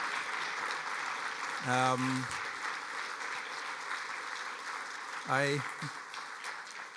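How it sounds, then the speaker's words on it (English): Steady audience applause at a conference fills the clip, with a voice speaking briefly twice over the clapping. "could you perhaps just give these folks a round of applause"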